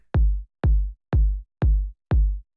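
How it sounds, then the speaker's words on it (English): Punchy, bassy house-music kick drum struck five times at a steady even pace, each hit a deep thump with a quick decay, loud and alone with nothing else playing. "it's just this punchy, sort of like bassy kick here."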